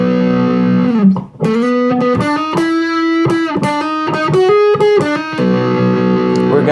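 Electric guitar with a driven, effected tone playing a solo phrase from a song, a string of picked and hammered notes between sustained held tones, loud and close.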